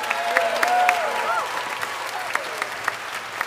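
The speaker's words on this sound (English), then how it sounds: "Please give a big round of applause." An audience at a school spring instrumental concert claps for the music team, busy applause that thins out into scattered claps, with a voice speaking over the start.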